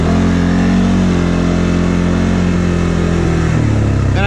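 A 2022 CFMoto 600 Touring engine runs at about 3,000 RPM, giving a loud, close, steady mid-pitched drone that barely changes before a slight dip near the end.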